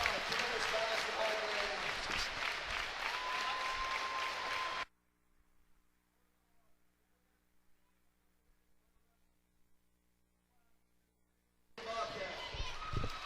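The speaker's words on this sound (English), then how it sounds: "The crowd showing its appreciation for the hosts here." A gym crowd applauds and cheers the home team after a high school basketball game, loud and dense, then cuts out to near silence before the clapping returns.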